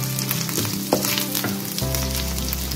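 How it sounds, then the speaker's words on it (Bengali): Onions frying with ginger and garlic paste give a loud, close sizzle with a couple of sharp stirring scrapes, and a low hum joins partway through. "আদা পেস্ট রসুনের পেস্ট দেওয়ার পর একটু নেড়ে চেড়ে নিয়ে"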